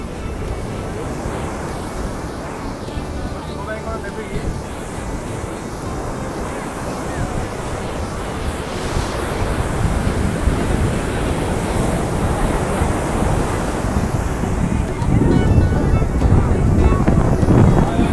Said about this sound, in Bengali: সমুদ্র আজকে বিশাল রূপ ধারণ করেছে